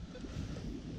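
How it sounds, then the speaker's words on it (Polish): Steady strong wind buffets the microphone with a loud, rumbling roar, continuous throughout, with no speech. "Wiatr dosyć spory jest, zapewne słyszycie"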